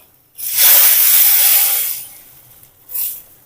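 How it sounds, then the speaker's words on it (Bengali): Onion and black cumin seeds hit hot oil in a tempering for a sour potato, prawn and tomato dish, giving a loud sizzling hiss that swells, fades, then flares briefly again near the end. "পেঁয়াজ আর কালো জিরা দিয়ে একটু বাগার দিচ্ছি"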